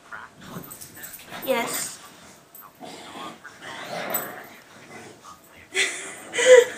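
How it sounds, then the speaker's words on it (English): Puppies whimper and yip in short, high, breathy cries scattered through the moment, close by, mixed with a person's excited talk and breathing. "All the baby puppies, all the baby puppies, all the baby puppies, all the puppies."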